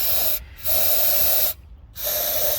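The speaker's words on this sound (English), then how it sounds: "We're gonna spray some of our good old Johnson starting fluid right into the carb" Johnson starting fluid sprayed from an aerosol can into the carburetor of a Glastron Carlson CVX-16 boat engine, two sustained close hissing bursts separated by short pauses.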